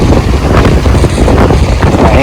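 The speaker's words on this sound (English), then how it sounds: "it's so windy up here" Strong wind buffeting the microphone high above a valley in a loud, steady roar with gusty rumbling throughout, no clear voices.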